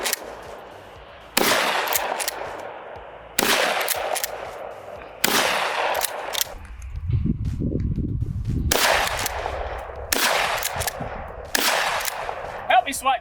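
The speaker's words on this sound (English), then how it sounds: "I'll take it outside and shoot it" An SDS Tokarev TX3 nickel shotgun fires outdoors, one loud booming report after another at intervals of roughly two seconds, with a brief low rumble between shots.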